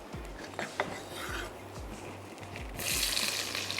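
Onions dropped into hot oil with curry leaves for a spiced baingan dish, giving a rasping sizzle with scattered pops and clinks of a pan, swelling into a brighter, louder hiss near the end.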